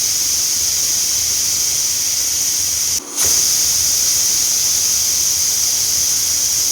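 Pressure cooker whistle releasing steam while dal steams on the stove, a loud continuous high hiss that briefly drops out before resuming strongly.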